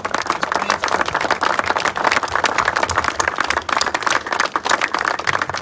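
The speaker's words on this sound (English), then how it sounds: "Please join me in a round of applause for Chief Warrant Officer Boatswain Kaminski" An audience at a military retirement ceremony applauds a retiring chief warrant officer boatswain, dense, even clapping filling the room continuously from start to finish.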